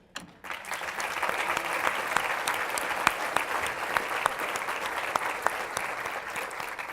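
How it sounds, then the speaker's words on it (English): Summit audience applauding at a children's summit, a steady, dense wash of many hands clapping that starts abruptly and holds at an even level throughout, with no talking. "Can we give a round of applause for all the men here who are doing this work on human trafficking?"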